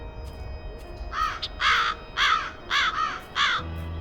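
Crows caw repeatedly near a nest inside the game Black Mirror II, six or so loud, harsh calls in quick succession against a quiet background.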